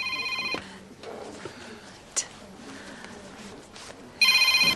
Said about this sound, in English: Charity, is that my phone?